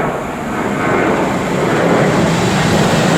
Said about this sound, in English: Yeah, we've got a Ryanair flight.